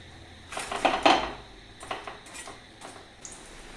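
A metal spoon scooping fried kappa bonda, tapioca fritters, out of a frying pan, with a few close clinks and scrapes of metal against the pan in short bursts and quieter taps afterwards.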